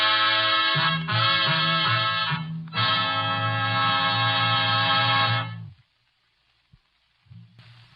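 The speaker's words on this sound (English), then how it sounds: "I've got a little phone call to make." A telephone rings in an old-time radio drama, a loud sustained electric bell sounding in long bursts with a short pause between them, then cutting off to near silence before a brief tone returns at the end.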